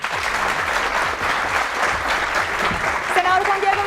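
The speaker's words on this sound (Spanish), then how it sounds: "la senadora Olga Suárez Mira, para quien pido un fuerte aplauso." Audience applause welcoming two senators onto a debate program, a steady even wash of clapping with a voice starting to speak over it near the end.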